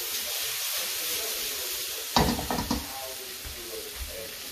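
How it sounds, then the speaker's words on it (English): Green beans sautéing in hot oil give a steady, close sizzle and hiss, broken midway by a few knocks and stirring clatters from the pan. "Saute the beans."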